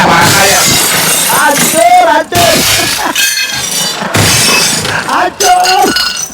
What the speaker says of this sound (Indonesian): hancur tuh piring semua nih